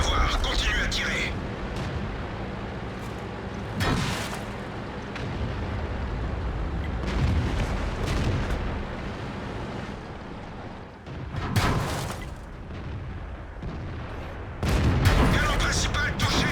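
Tank cannon fire in World of Tanks, heavy booming shots landing at intervals of a few seconds, several loud blasts over a constant engine rumble with voices talking over the action.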